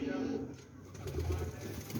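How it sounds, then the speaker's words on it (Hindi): A black pigeon coos softly in a few low, throaty notes close by, while voices talk over it. "ये कबूतर है जी,"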